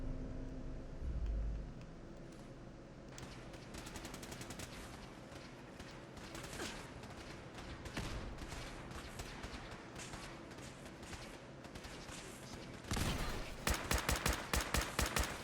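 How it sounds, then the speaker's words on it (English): A never-ending legendary laser pistol in Fallout 4 fires in rapid, continuous bursts, with dense repeated shots over a long stretch and a louder cluster of sharp blasts near the end. "Look how fast this gun shoots."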